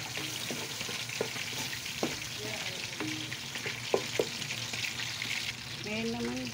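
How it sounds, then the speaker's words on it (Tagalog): Chayote sautéing in a pan with oyster sauce gives a steady sizzle, with a spatula scraping and tapping against the pan in irregular strokes. "Haluin natin."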